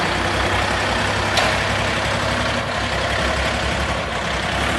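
A heavy truck idles at a loading site with a steady, loud, low engine drone and no talk, one of twelve cargo trucks gathered there.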